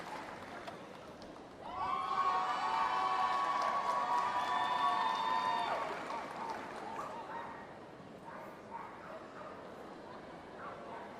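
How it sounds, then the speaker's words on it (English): At the Crufts 2017 small-team dog agility final, an arena crowd breaks into loud applause and cheering as a team finishes. The roar lasts about four seconds before easing into a lower murmur, with dog yips and commentary mixed in. "a big round of applause as they finish"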